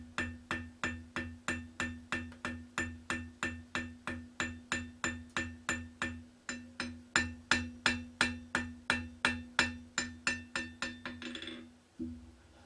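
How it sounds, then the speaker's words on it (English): Ball end of a hammer strikes a hot steel bearded axe head on an anvil while forging the beard, a steady run of about thirty ringing metallic blows roughly every 0.4 seconds, close and loud, ending with a final tap. "I'm using the ball end of the hammer to try and move some material out into it"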